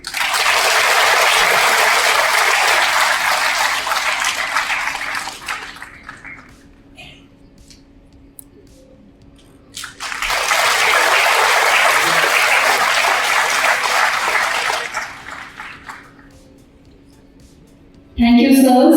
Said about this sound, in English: Please continue applauding.